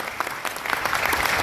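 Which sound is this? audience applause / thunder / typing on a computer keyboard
audience applause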